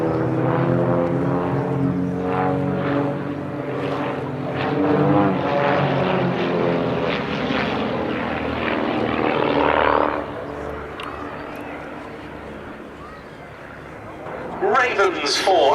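Vans RV-8 propeller planes of a six-ship display team fly a barrel roll at a summer airshow, their engines droning loud then fading over an open field while a commentator talks throughout.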